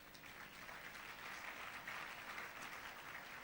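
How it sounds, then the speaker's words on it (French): Church congregation applauding for the Lord during a French-language sermon: a continuous wash of distant, fairly soft clapping with no breaks, steady throughout. "Est-ce qu'on peut acclamer pour le Seigneur?"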